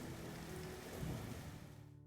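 Steady rain falling on a day of bird photography out on location, a dense, even hiss that holds at the same level and fades slightly near the end.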